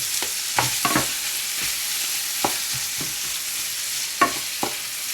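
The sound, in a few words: onions and garlic sizzling in a pan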